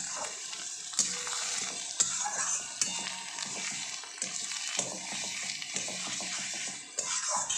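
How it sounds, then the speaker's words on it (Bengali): Kharkol and pointed gourd paste sizzles and fries in hot oil in a pan, a steady crackling hiss broken by periodic scraping and stirring knocks. "এবার আমি ভালো করে ভাজবো ততক্ষণ ভাজবো যতক্ষণ পর্যন্ত এর কালার না চেঞ্জ হয়"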